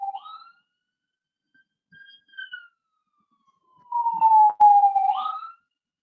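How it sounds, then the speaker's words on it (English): A police siren outside wails in brief, faint bursts at first, then swells into one long, loud tone that falls away, with no talk over it. "I wonder if everybody can hear the sirens going behind me"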